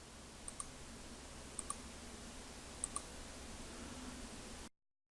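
Three pairs of crisp computer mouse clicks spaced about a second apart, each quick double tap standing out faintly over a steady hiss of background noise in a quiet room.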